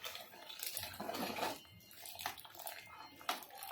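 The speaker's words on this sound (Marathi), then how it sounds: "भात शिजायला ना पाणी लागेल ना तेवढं पाणी टाकायचं आहे" Water splashes and pours into rice in a pressure cooker in several uneven bursts, close and fairly quiet, with no talking.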